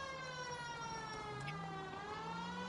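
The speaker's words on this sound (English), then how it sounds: "You're blaring sirens." Police car siren wailing in the video game L.A. Noire, a continuous rising and falling electronic tone, loud and close, sweeping upward near the middle, with faint engine rumble beneath and no speech.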